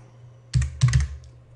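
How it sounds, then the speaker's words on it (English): Typing on a computer keyboard: a short run of about four crisp, close key clicks in two quick groups, with quiet before and after. "and I type in tool belt"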